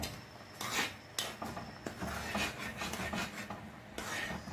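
Steamed fish and okra stirred together in a pot for a Jamaican recipe, giving repeated close scraping and rubbing strokes of a utensil against the pot with soft clinks, steady and unbroken by talk.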